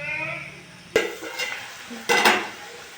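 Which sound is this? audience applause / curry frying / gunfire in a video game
curry frying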